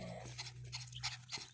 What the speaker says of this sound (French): Donc voici mon premier chien.